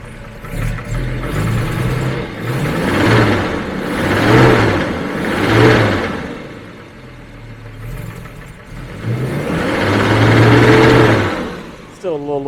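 A 1966 Jaguar S-Type engine, still a little cold, runs steadily nearby with a pulsing, rhythmic idle that swells and eases in repeating surges, while a voice speaks briefly over it.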